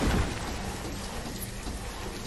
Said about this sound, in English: Oh, okay, it's raining.